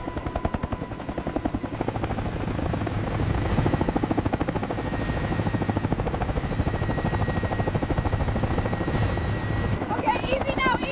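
Large helicopter hovering and slowly descending to land, its rotor a steady, loud rhythmic chop with continuous turbine whine throughout, while people talk over radio-style exchanges on top.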